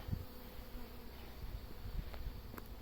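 A swarm of bees buzzes steadily at close range outdoors, a dense continuous insect hum with a few brief knocks and rustles beneath it.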